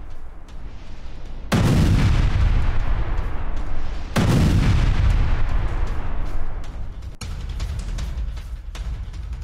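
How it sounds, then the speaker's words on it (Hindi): MLRS rocket artillery and gunfire from the Russia-Ukraine war pound out in loud, heavy booms. Two big blasts each roll into a long rumbling wash, with a sharp crack near the end and steady background rumble throughout. "जहां MLRS और गोलीबारी से मची तबाही की ये तस्वीर देखिए"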